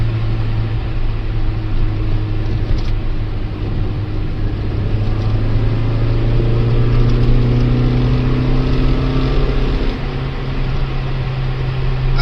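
A Ford Escort GT engine in a driving video game, cruising on backroads with a steady, loud drone throughout and gentle pitch shifts as the revs rise and settle.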